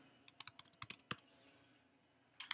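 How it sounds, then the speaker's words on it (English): Keys clatter on a computer keyboard as a name is typed, a quick irregular run of close, crisp clicks followed by a pause and a final louder burst of keystrokes. "And you're going to type out your name."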